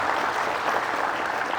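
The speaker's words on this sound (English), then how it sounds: "Everyone, please give a big round of applause" A round of applause from an audience welcoming a guest speaker at a Hyderabad Manipuri Society event, a short dense wash of clapping held at an even level throughout.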